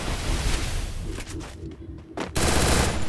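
Gunfire in a shooting video game, rapid bursts of shots hitting an enemy, loud and continuous with a brief lull near the middle before the firing picks up again.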